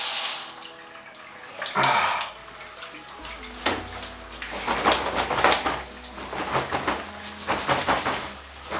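Water running and splashing off a Compressport Hurricane running jacket, in irregular close bursts of pouring and dripping that rise and fall over several seconds.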